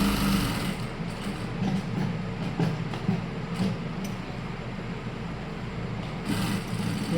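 A sewing machine runs steadily, stitching cloth while a pressing seam is sewn, its motor giving a continuous mechanical hum with faint rhythmic clatter, close and fairly loud throughout, with no voices.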